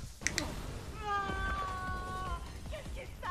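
A cat meows with a drawn-out, wavering cry in a scene from the anime Dan Da Dan, heard clearly over a busy background soundtrack.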